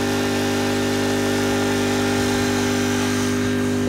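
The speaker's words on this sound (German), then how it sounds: "Und hier der Honda-Motor, der läuft wieder oder noch." A Honda engine drives an irrigation pump on a flower field, running at a steady, loud drone with a constant hum that does not change, and no voices are heard.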